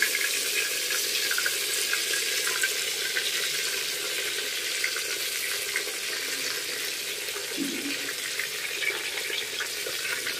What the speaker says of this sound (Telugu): ఇప్పుడు నూనె వేడెక్కిన తర్వాత ఇప్పుడు మనం ఈ వంకాయలని, గుత్తు వంకాయలని ఇందులో మనం వేసుకోవాలి.